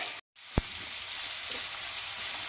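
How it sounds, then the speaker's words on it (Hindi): Onions fry in hot oil with a steady close sizzle, opening with a short gap and a sharp click before the hiss settles in evenly. "इसी ऑयल में अब हम प्याज फ्राई कर लेंगे"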